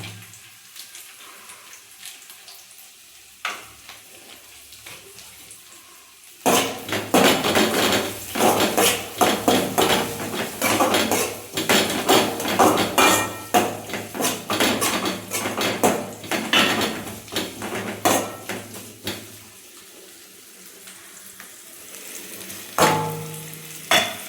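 Semiya with cashews is stirred vigorously in a metal pan: loud, rapid scraping and clattering strokes over a sizzle for about thirteen seconds, close by, with quieter stretches before and after.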